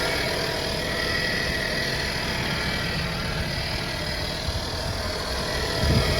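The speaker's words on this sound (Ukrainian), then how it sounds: "робота двигуна" A 2004 Opel Zafira engine idles steadily, a continuous low rumble close by with no breaks and no voices.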